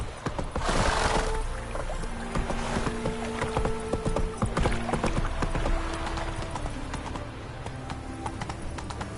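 Hooves of the horse Roach clip-clop steadily at a gallop through The Witcher 3: Wild Hunt, a continuous rapid rhythm layered with game ambience and a brief whinny, with no speech over it.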